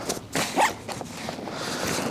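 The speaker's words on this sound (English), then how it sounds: "And zip that back up" A Tronixpro rucksack zip is pulled closed in a few quick rasping strokes, close and crisp, with short pauses between pulls.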